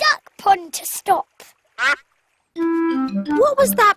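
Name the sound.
cartoon splash into a duck pond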